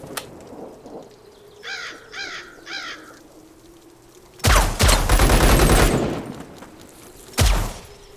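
Gunfire from the video game Zero Sievert: a loud sustained burst of shots around the middle, then a single sharp shot near the end, with crow-like game bird calls earlier over a low ambient hum.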